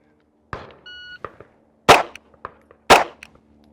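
Two sharp gunshots at an outdoor shooting range, each preceded by a brief electronic shot-timer beep and small handling clicks, the shots loud and close with short decay.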